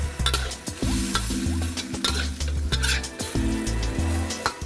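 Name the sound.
garlic deep frying, sizzling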